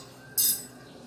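A metal spoon clinks once, a single bright, close tap against a quiet room background.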